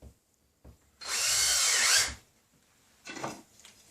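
A power drill drives a small screw into drywall for a fast patch over a missing stud, one loud whirring burst lasting about a second, followed by a shorter, fainter buzz.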